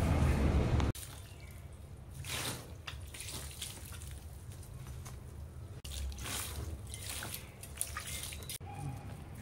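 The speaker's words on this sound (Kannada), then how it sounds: "ಇದಕ್ಕೂ ಸ್ವಲ್ಪ ನೀರು ಹಾಕ್ತೀನಿ." Water is poured onto a potted plant, soft trickling and dripping at close range after a short louder burst at the start, with a few faint splashes.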